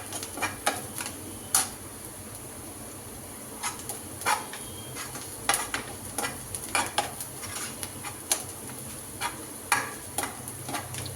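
Onions fry in oil in a pan with a steady sizzle, broken by irregular sharp clicks and scrapes of stirring, close and fairly quiet with no talk.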